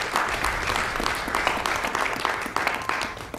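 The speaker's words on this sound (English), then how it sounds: "please clap for that one because that's ridiculous" A crowd at a Games Done Quick speedrun marathon applauds steadily, a dense wash of clapping that swells and holds without pause, with faint voices mixed in.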